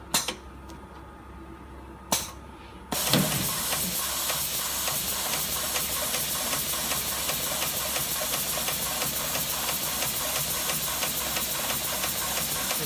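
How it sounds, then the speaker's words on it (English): An industrial sewing machine with a double puller feed sews super yacht sails, starting after a couple of clicks and then running in a loud, continuous mechanical drone. "So Sam, if you'd like to start sewing"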